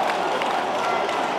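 A large crowd at a Melbourne versus Sydney AFL qualifying final at the MCG cheers and applauds in a steady, broad roar that fills the whole moment.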